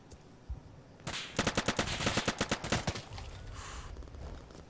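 A rapid burst of automatic gunfire in the video game Insurgency, about a dozen loud, evenly spaced shots rattling off in quick succession after a single earlier pop, then fading into background noise.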